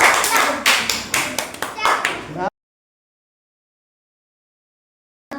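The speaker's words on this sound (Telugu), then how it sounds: "క్లాప్స్" Children applauding in a primary school classroom, a burst of brisk, loud clapping lasting a couple of seconds before stopping abruptly into silence.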